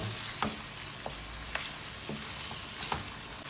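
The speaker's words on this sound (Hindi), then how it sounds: "इसे अच्छी तरह से मैं भून लेती हूँ।" Chicken karahi sizzles steadily in a pan, a soft continuous frying hiss broken by occasional scraping clicks of a spoon stirring, fairly quiet and with no voices.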